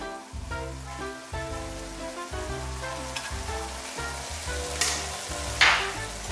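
Organic grass-fed ground beef with curry being stirred in a pan, a steady sizzle and crackle mixed with scraping stir strokes, fairly soft and close, with no talking.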